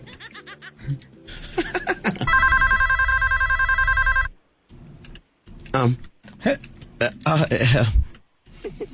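A telephone rings in one loud, sustained electronic burst lasting about two seconds, with people talking and laughing before and after it.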